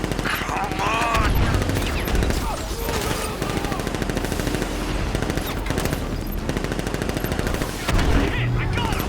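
Dense bursts of automatic gunfire and explosive booms from the Batman Arkham Knight video game, loud and near, rattling steadily with brief gaps while a voice talks over the firefight.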